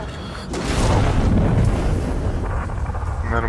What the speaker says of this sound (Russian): Нормальный такой взрыв.